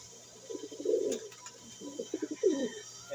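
A single pigeon in a loft coos in two soft, low, rolling phrases separated by a brief pause, close by and alone against a faint steady hum.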